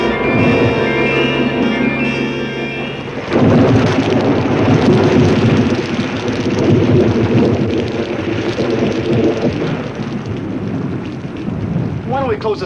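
Thunderstorm on a dark night with heavy rain pouring steadily and a loud rumble of thunder breaking in, over a background of music and a brief voice.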